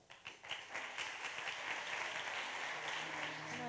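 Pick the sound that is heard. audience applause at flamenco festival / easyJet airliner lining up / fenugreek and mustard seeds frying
audience applause at flamenco festival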